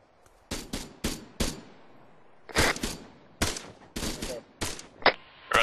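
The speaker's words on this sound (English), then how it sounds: "Yeah, we're shooting at him." Gunfire during Marine Corps platoon training with the 15th MEU, a run of about a dozen distinct sharp shots in irregular pairs and bursts, fairly close and crisp against quiet surroundings.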